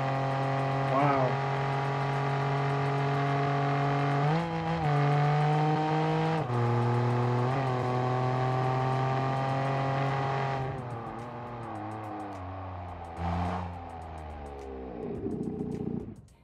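A car with a sequential gearbox pulls hard uphill, the engine rising in pitch through several quick upshifts, each marked by a brief dip, close and loud throughout before easing off at the end.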